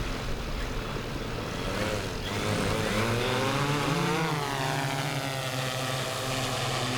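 Propellers of a Q500 4K drone spin up on a sailboat and it takes off, a loud buzzing whine that rises in pitch and settles into a steady drone, close and constant over wind noise.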